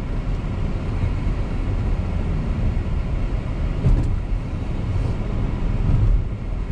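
A Chevrolet Traverse Premiere AWD on a test drive, with a steady, loud interior road and engine rumble that holds level throughout, rising slightly near the end, and no talking.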